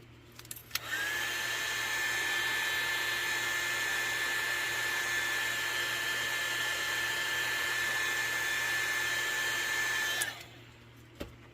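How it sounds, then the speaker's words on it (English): A heat gun blows hot air over resin, a steady, loud whooshing whine with a constant high tone that starts abruptly, holds for about ten seconds, then cuts off, heard up close with no talking. "I'm going to use the heat gun"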